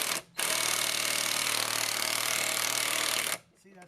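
Impact gun removing car lug nuts in a garage, a loud, dense rattling hammer burst of about three seconds, close by, starting and stopping abruptly.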